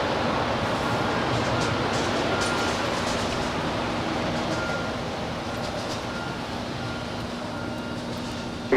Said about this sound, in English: So we do have a 777 departing there on the north side.